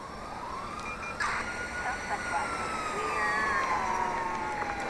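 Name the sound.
police siren in a video game (wanted level)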